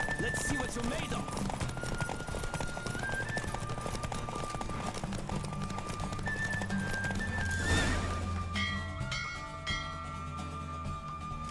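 A horse galloping in a race in The Witcher 3: steady, rapid hoofbeats under wind and game music, with a whinny partway through and bell-like tones toward the end.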